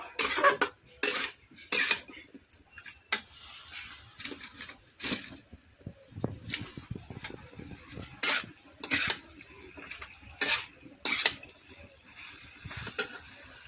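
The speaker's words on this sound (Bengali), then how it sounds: "এখন নাড়বো। এখন নাড়া দিব।" A spoon clinks and scrapes against a cooking pot in sharp, irregular metallic taps while food with chilli paste is being stirred, each strike clear and close in an otherwise quiet kitchen.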